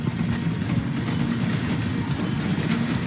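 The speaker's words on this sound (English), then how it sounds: "The train is slowing down to go through the station." A steam train in Red Dead Redemption 2 rolls steadily along the rails near a station with a constant rumbling roar and faint rhythmic wheel clatter, loud and close throughout, with no voices.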